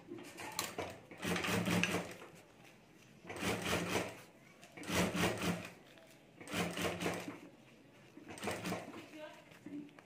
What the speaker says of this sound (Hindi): और अब यहाँ बॉर्डर रखकर हमें सिलाई कर देनी है